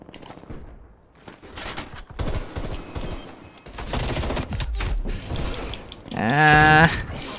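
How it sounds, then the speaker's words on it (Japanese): Heavy explosions from airstrikes in Call of Duty: Black Ops Cold War, loud booming bursts and gunfire crackle layered through a busy multiplayer match, with a sharp tonal blast near the end and voices occasionally talking over it. "いい空爆落としてくるな。"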